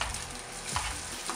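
Chopped garlic, ginger and shallots sizzle steadily in hot oil for a Kerala fish curry, with a couple of stirring scrapes, close and continuous with no voices.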